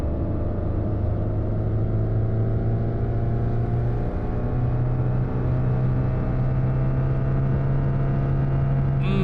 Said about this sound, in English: Listen to that engine red line.